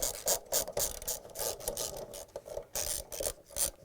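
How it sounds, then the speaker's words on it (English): A socket wrench ratcheting out the 10mm stator bolts inside a Samsung washer, close rhythmic clicking and rasping strokes repeating steadily, with no talking. "We're going to use the socket wrench."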